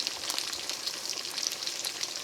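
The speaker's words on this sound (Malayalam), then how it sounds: "ഈ ബാക്കിയുള്ള ചിക്കനും ഇതേപോലെ തന്നെ വറുത്തിട്ട്" Chicken pieces for chili chicken fry in hot oil in a pan, giving a soft, busy crackle and sizzle with quick pops, fairly quiet and with no talk.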